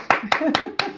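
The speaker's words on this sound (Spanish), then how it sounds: "Se puede abrir micrófono y aplaudir también." Four quick hand claps in a steady rhythm, picked up close on an open microphone during an online talk, with a faint voice murmuring underneath between the claps.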